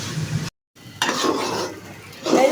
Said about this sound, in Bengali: এই যে চালটা আবার সুন্দর করে আমি ভাজে নিছি, এই যে ঝরঝরা হচ্ছে।